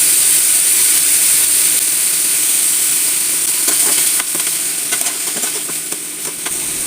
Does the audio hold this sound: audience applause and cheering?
no